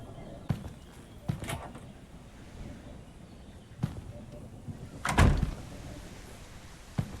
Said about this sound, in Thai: เสียงเคาะ มาจากห้องน้ำสาธารณะนอกบ้านเรา